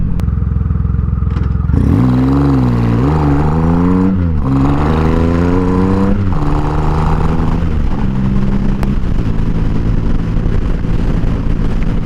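A Triumph Rocket 3 motorcycle's big three-cylinder engine accelerates hard and loud from close range, rising through several gear changes with rev sweeps and brief dips, then settles into a steady drone.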